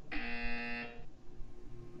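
A single harsh electronic buzzer from the video game Portal 2 sounds for just under a second, loud and tonal, then cuts off into a faint low hum.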